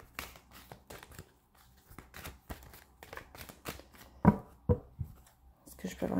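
Oracle cards being drawn and shuffled from a deck, with repeated papery flicks and slides close by, a few sharper snaps near the end, under intermittent talk.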